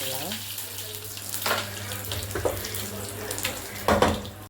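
Mustard and fennel seeds spluttering in hot oil while tempering greens, giving a steady crackling hiss with a few louder pops near the end, close by and with no talk.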